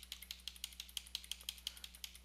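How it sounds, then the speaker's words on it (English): Rapid, even clicking of computer keyboard keys, about fifteen crisp taps in a steady rhythm, heard close and quiet over a faint electrical hum with no talking. "choosing these with my keyboard"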